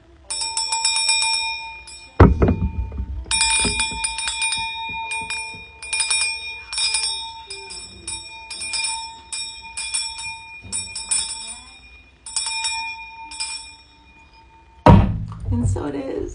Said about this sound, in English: we'll do a sound clearing with my Mother Ocean's bell